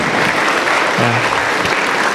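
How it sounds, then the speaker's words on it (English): Audience at an international Islamic psychology conference applauding Prof. Badri after his session, a loud, steady roar of clapping sustained throughout, with a faint voice briefly rising underneath midway. "Mari kita beri applause kepada Prof. Badri."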